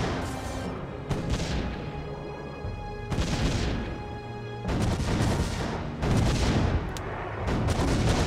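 Turret guns firing in the tower-defense video game Defense Grid: The Awakening, a dense barrage of booming shots and crashing impacts that come in repeated loud bursts over steady game noise.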